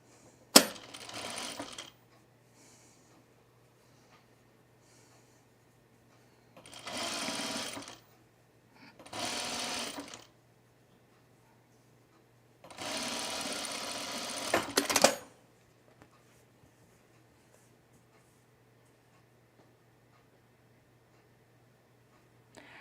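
Sewing machine stitching with thicker thread: three separate runs of fast mechanical whirring, each a few seconds long and separated by quiet pauses, with a sharp click at the start.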